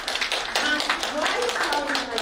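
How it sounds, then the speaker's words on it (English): An audience at a women's entrepreneurship conference in Ras Al Khaimah claps briefly: a short burst of close, crisp hand claps lasting about two seconds. "A clap for that, please."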